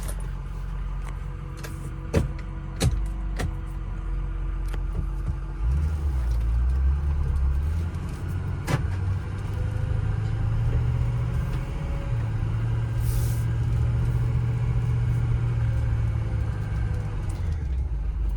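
A 2005 Ford F250 Lariat diesel pickup driving, its engine rumbling steadily from inside the cab with a rise in revs partway through and a few knocks and clicks, no talk.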